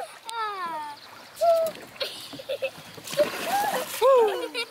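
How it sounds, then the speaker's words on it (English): People jump into a lake to cool off after a day of fishing, making close splashes under excited voices, chatter and high shrieks. "we're gonna cool off by jumping in the lake."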